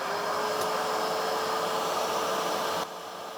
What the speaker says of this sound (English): So the vacuum right away fires on.